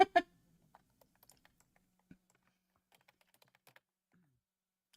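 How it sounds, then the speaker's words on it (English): A loud computer keyboard struck in a few hard bursts at the start, followed by sparse, quieter key clicks scattered across the rest of a mostly quiet stretch. "Somebody who has a keyboard as loud as me."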